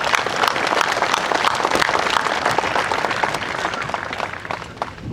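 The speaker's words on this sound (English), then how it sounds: "let's give all of our council members from Arlington a round of applause" A crowd at a Veterans Day gathering in Arlington, Texas applauds council members, a dense, close patter of many hands that stays strong and then eases slightly toward the end.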